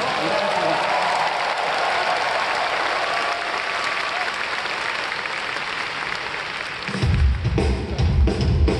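Audience applause at a live concert event fills the room steadily and loudly, swelling into a fuller, heavier burst of clapping near the end.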